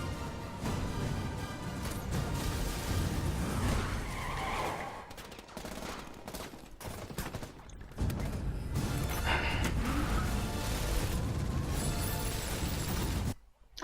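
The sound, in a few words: car skidding in No Time To Die trailer car scene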